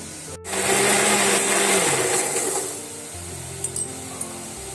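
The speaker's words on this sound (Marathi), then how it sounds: "बघा अशा प्रकारे आपला मसाला वाटून झालेला आहे" A kitchen mixer grinder blitzes roasted masala for mutton, starting with a loud whirring motor that holds for about two seconds, then winds down and leaves a few light clicks.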